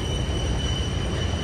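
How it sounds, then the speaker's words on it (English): A train rolls past near a riverside path, its steady broadband rumble and rail noise continuous throughout, with high sustained squealing tones from the wheels riding over it. "Oh, there's the train."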